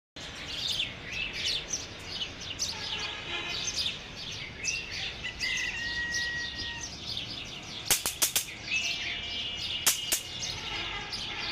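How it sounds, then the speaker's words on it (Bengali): Several birds chirping and singing in the morning in a quiet outdoor setting, with a few sharp clicks near the end and one sustained whistle. "এই সকালবেলা পাখির ডাক শব্দ শুনতে আমার খুব ভালো লাগে।"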